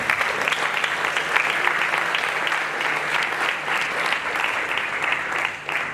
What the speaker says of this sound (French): On peut applaudir très fort, s'il vous plaît.